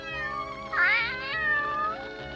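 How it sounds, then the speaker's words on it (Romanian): A cartoon cat in a Smurfs episode lets out one drawn-out, wavering meow that swells into a sharper cry, heard clearly alone over a soft musical backdrop. "îmi este dor de pisica aia prostă"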